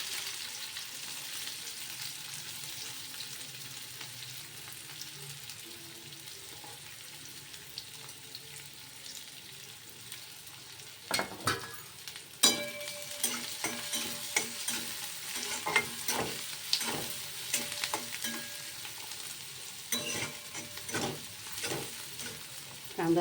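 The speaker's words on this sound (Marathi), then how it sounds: "कांदा चांगला गुलाबी रंगावर होईपर्यंत परतून घ्यायचा." Onion frying with cumin seeds in a pan, stirred now and then. A low steady sizzle runs under sharper scraping stirs in the second half. Water runs faintly nearby, and nobody speaks.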